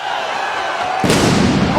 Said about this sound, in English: the explosion happened a good 1 second after the landing instead of instantly after